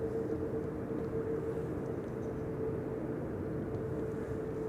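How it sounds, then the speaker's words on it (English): A KLM Boeing 787-10 Dreamliner bound for Bangalore waits at Amsterdam Schiphol, giving off a steady, distant jet-engine drone with a constant hum running through it and no talk. "on the right we have the Dreamliner to Bangalore"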